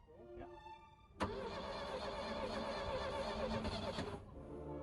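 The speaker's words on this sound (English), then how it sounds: "The starter motor worked fine, there was even some combustion happening" A rebuilt engine in a vintage Bayliner boat cranks on its starter motor: a sharp engagement, then about three seconds of loud, steady churning that cuts off abruptly.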